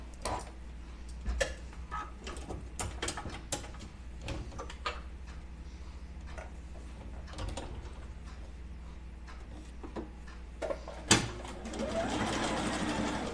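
A domestic sewing machine runs in short intermittent bursts of ticking stitches amid clicks and handling noises, moderately close, with a louder whirring run near the end.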